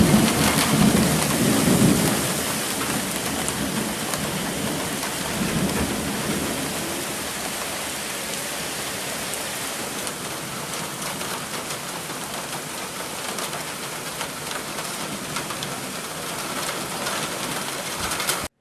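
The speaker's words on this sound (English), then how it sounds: "It's raining hard. Can you hear thunder?" Heavy rain pours down in a dense, constant hiss while thunder rolls loudly at the start and then fades into a steady downpour.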